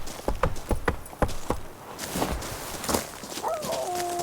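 Roach, the horse in The Witcher 3, gallops in a run of sharp, evenly spaced hoofbeats that loosen into softer thuds. A brief tonal cry rises near the end.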